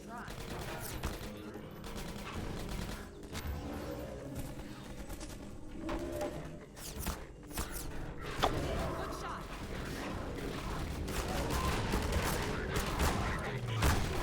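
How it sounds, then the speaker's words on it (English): Gunfire in the video game Half-Life 2, with shotgun blasts among a busy stretch of repeated shots and mechanical clatter, moderately loud over game ambience. "Stop shooting me with shotguns."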